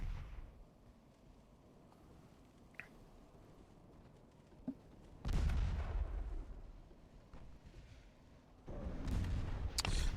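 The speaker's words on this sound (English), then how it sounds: "it only fired one of the deck torpedoes and not the other" A warship fires deck torpedoes in the naval game Ultimate Admiral Dreadnoughts, a sudden heavy booming blast followed by rumbling, then a second burst later, over a quiet background with small clicks.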